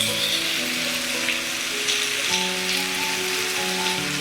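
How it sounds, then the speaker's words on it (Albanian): Apples caramelizing in melted butter and brown sugar hiss steadily at close range, a soft rain-like bubbling that stays even throughout. "Pasi kemi shkrirë gjalpin dhe sheqerin kaf, shtojmë mollët për të karamelizuar."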